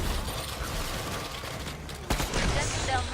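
Gunfire in the video game Killing Floor 2, heard as a dense, steady crackle of shots with a louder burst near the end, played close and loud.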